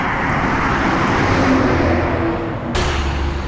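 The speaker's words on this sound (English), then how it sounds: "The cars that drive past me must be so confused." Steady traffic on a two-way highway near an airport, loud and close, with a car roaring past and a brief burst of wind noise near the end.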